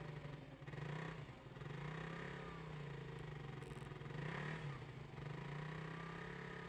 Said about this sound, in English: Hey, jackass with a motorcycle.